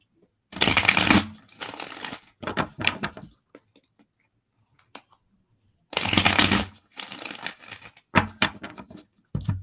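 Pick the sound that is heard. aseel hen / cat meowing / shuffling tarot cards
shuffling tarot cards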